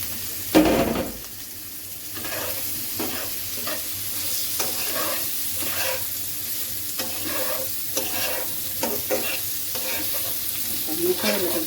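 Bitter gourd stir-fried in a pan with fish roe, turmeric and cumin powder, a continuous loud sizzle with repeated scraping strokes of a spatula against the pan.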